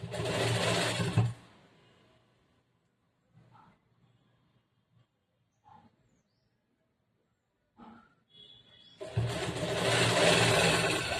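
A sewing machine stitches a plain blouse in a tailoring class. The motor whirs loudly in a burst at the start and again at the end, with a quiet pause of faint shuffling between them.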